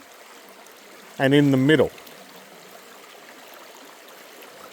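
Creek water runs around a bend in a gold-prospecting stream, a steady, soft rushing flow throughout, briefly covered by a voice speaking near the middle.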